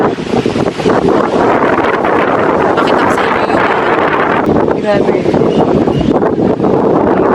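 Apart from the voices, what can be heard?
strong wind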